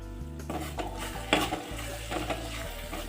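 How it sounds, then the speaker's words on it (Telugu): A spoon stirs fish curry masala with onions, oil, ginger-garlic paste and chili in a pan, giving steady scraping and soft clinks against the metal while a low music bed plays underneath throughout. "ఇప్పుడు బాగా కలుపుకోవాలి."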